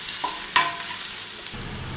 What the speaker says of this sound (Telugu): అల్లము కరివేపాకు కూడా కొంచెం వేగాలి.